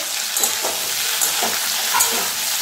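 Tomatoes fry in a pan of flat-bean curry while being stirred: a steady close sizzle with soft scraping strokes of a spoon every half second or so, and no voices.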